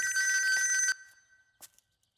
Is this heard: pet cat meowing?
no